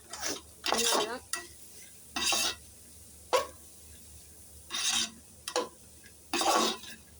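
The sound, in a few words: stirring kootu in a cooking pot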